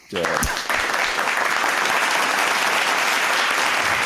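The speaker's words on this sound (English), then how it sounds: "I don't know that is a sincere applause." Dense audience applause bursts in right after a brief voice and stays loud and steady, a thick unbroken wash of clapping for several seconds.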